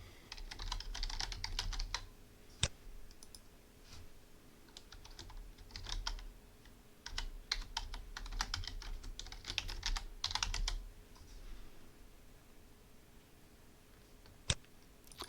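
A password is typed on a computer keyboard in quick bursts of soft, close key clicks with short pauses, then a couple of isolated sharper keystrokes near the end.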